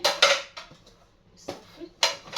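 Melamine dishes being handled while cleaning out a guest china cabinet, with a few sharp clinks and clatters in short bursts separated by brief quiet gaps.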